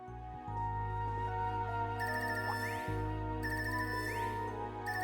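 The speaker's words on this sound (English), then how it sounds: "It's ringtone. I haven't heard this before." A phone ringtone in the video game Trails of Cold Steel 3, a melodic electronic ring repeating in two bursts over a steady low tone, clear and close with no talking.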